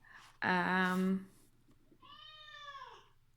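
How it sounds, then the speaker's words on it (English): A pet cat meows to be let outside: two drawn-out, fairly loud, close meows, the first strong and harmonic-rich, the second softer and falling, over a low steady hum with no talk. "Kitty wants to be let outside."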